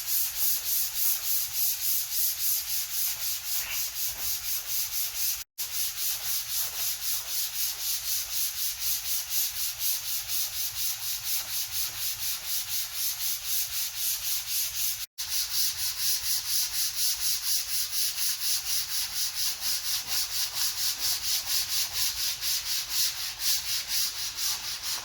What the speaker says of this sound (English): Next, I'm going to sand this entire surface.